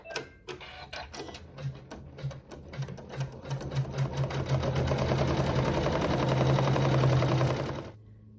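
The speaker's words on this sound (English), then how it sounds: "This step will sew some quilting as well as satin stitching over fabric 3." Sewing machine quilting and satin stitching over fabric, close and clear, starting with separate rapid stitches that quicken into a fast continuous run before stopping abruptly near the end.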